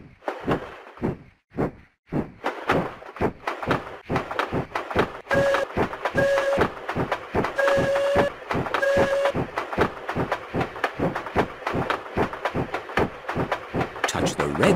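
Cartoon train in a Peppa Pig mobile game runs with a fast, regular clickety-clack rhythm, joined midway by a few short two-tone whistle toots, with cheerful music and a voice talking over it.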